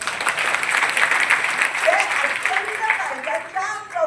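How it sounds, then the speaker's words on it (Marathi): An auditorium audience at an award ceremony in the Kirloskar hall, Solapur, claps in sustained, dense applause that runs steadily throughout, with a voice speaking over it toward the end. "टाळ्या वाजवा सगळे"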